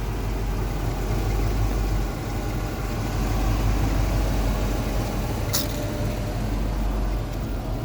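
A new engine in a 1986 Chevrolet K5 Blazer idles steadily, a constant low rumble with no talk over it.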